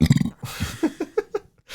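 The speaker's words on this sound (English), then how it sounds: "We need to address the burping, I think." A few short burp-like vocal bursts, close and fairly loud, in a quiet podcast setting with no talk over them.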